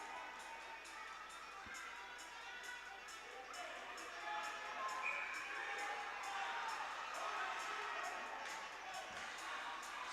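Hockey crowd at a AAA state championship game cheering and shouting in a continuous, fairly distant roar from the arena stands, swelling partway through, with a faint commentator's voice underneath.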